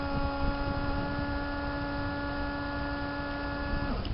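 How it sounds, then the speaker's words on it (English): A small electric water injection pump wired to a cable gives a steady, even hum with strong harmonics that cuts off just before the end. "So I got the electric pump wired in."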